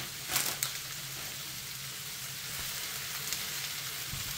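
Leftover onion, taken from the freezer, sizzles in a hot pan as a steady, fairly quiet hiss, with a couple of brief clatters near the start.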